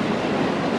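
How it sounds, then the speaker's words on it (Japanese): A Super Hakuto 7 limited express train rumbles steadily into Kyoto Station, a dense low roar of rolling wheels, close and continuous. "6番乗り場に列車が参ります。"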